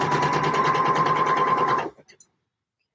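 Sewing machine stitching trousers runs in a fast, even buzzing whir for nearly two seconds, then stops, leaving a couple of faint clicks and near silence.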